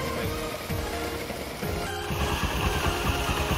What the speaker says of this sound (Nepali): यो पनि थर्ड वे हो जसबाट हामीले बाइकलाई स्टार्ट गर्न सक्छौँ